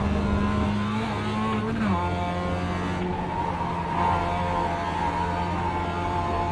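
A race car in a racing video game runs at high revs and shifts up, its steady engine tone dropping once with the gear change and then climbing again as it accelerates.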